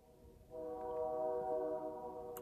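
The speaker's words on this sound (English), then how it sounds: "That's a train here in the background." A train horn sounds from far off during an elk hunt, a steady low multi-tone blare that starts abruptly and holds for about two seconds over quiet outdoor ambience.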